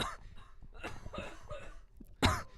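Someone coughs right into a microphone: several short, rough bursts spread across the moment, ending with a louder, sharper cough close to the mic.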